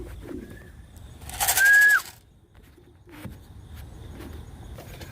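A racing pigeon arriving back at its loft after a 150-mile race lets out one short, fairly loud coo near the microphone, set against a faint outdoor background with no talking.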